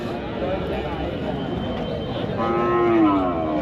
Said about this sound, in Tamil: கருவூர் மாடுகள்